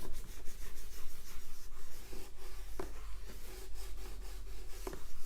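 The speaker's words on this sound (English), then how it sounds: "I'm going to use the shiny side to just burnish a little bit." Soft, close rubbing strokes as the shiny side of a tool burnishes a papercraft treasure box surface, a quiet repeated scratchy friction with a couple of sharper taps.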